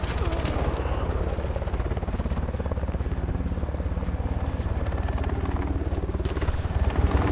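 Helicopter in the video game Warface, a constant rotor chop filling the scene at steady loudness, with gunfire and other game effects mixed in underneath.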